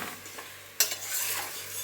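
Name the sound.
chicken being stirred and fried in a pan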